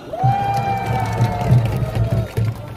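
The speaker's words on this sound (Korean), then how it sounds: "큰 박수 부탁드립니다" Rally crowd at an outdoor medical policy protest cheering and clapping, a sustained dense roar with a long whistle or horn tone running above it and occasional louder bursts.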